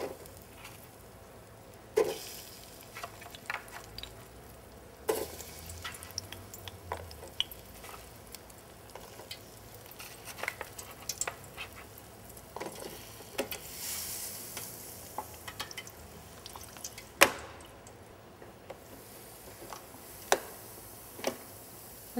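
Qatayef frying in hot oil, a continuous close crackling sizzle broken by scattered sharp pops and clicks of utensils against the pan, with no voices over it.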